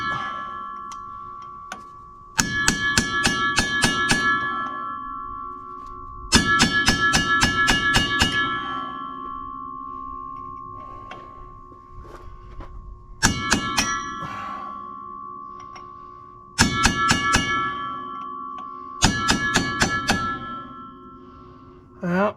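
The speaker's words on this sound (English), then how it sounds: "So now I'm gonna chisel them off." Cold chisel hammered through tight, seized bolts that are rounding over, during a 1998 Suzuki Sidekick transmission rebuild: bursts of rapid, ringing metallic hammer strikes in several separate clusters, close and loud, with a steady tonal hum between them.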